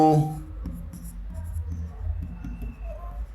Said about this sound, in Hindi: तो यहाँ पे लिख लेंगे हम लोग टू